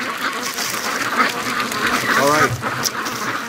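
Free-range ducks quacking on water with a little skim ice nearby, a few quacks rising over outdoor noise while someone speaks briefly close by.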